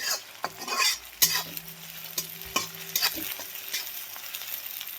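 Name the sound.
onion and tomato frying and being stirred in a pan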